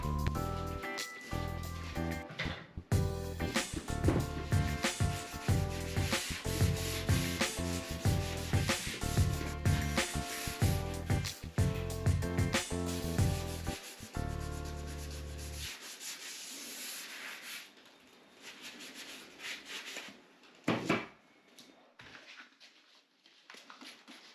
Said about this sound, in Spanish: He cogido una lija de esponja y lo estoy lijando.